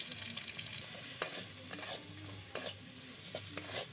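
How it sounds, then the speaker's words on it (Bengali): Chopped onion, green chili, turmeric, salt, chili powder, bay leaves and whole spices frying in hot oil for a village tilapia fish curry, a steady close sizzle broken by a few sharp stirring scrapes and clinks. "গরম তেলে পেঁয়াজ কুচি, কাঁচামরিচ কুচি, হলুদ লবণ মরিচ, সব রকমের মশলা পাতা, তেজপাতা সব কিছু দিয়ে দিচ্ছে একে একে।"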